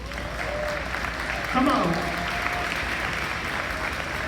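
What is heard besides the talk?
graduates applauding themselves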